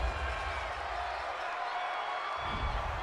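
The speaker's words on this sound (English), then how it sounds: "this crowd does not like that call" Stadium crowd at an NFL football game between the Detroit Lions and Miami Dolphins reacts to a penalty call with a steady, loud wash of murmuring and booing-like noise that swells again near the end.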